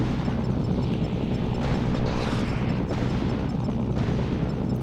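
A missile explosion in the Mercenaries 2 video game, a heavy, sustained low boom and rumble that fills the whole stretch at steady loudness with no clear separate blasts.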